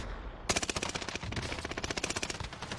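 Rapid automatic gunfire in a video game, a fast steady burst of sharp shots starting abruptly and running continuously, fairly quiet in the mix with no talk.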